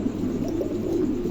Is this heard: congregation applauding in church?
no